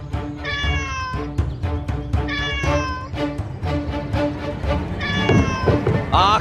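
A black cat meows repeatedly, three long drawn-out cries close by, over a background of other noise in a TV drama scene.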